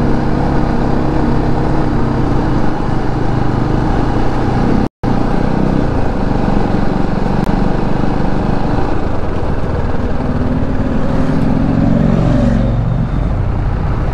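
A KTM Adventure motorcycle rides along at a launch event, its engine drone steady and loud throughout with wind rush, one brief dropout and a rising and falling pitch near the end.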